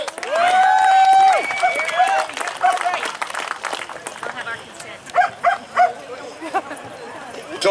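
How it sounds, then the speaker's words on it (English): A dog barks repeatedly at an outdoor rally, with loud sharp barks in several clusters amid crowd noise and a person speaking. "Dog's barking."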